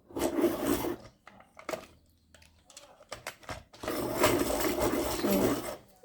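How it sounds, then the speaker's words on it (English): Colored pencils being sharpened, two bursts of dense scraping grinding close up, separated by a quieter pause with small taps. "I'm going to sharpen those as well."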